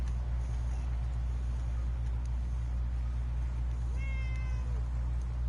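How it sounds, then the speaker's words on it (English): A cat in the video game Fallout 4 gives a single clear meow near the end, set over a steady low ambient hum with no talking. "Oh, kitty cat."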